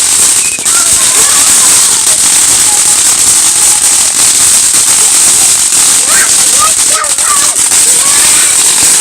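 Fireworks and firecrackers going off outdoors, a dense run of crackling pops and bursts over a steady hiss, loud and continuous, with people talking nearby.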